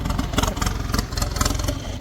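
A tractor engine running close by, a loud, rough, throbbing chug with a steady pulsing rhythm and no talk over it.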